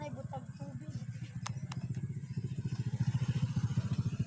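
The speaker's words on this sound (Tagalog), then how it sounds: "Ay, motor." A motorcycle engine chugs close by, its steady pulsing growing louder and faster toward the end, with people talking over it and a couple of brief sharp clicks.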